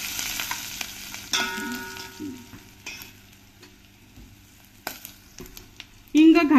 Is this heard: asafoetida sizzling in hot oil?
yes